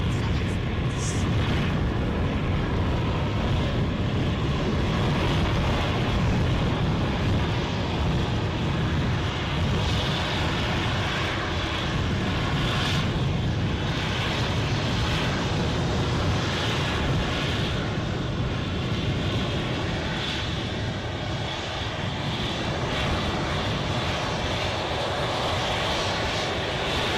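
An Aer Lingus airliner roars steadily and loudly at gusty Edinburgh airport, with a constant broadband engine rumble and wind noise that carry through the whole stretch.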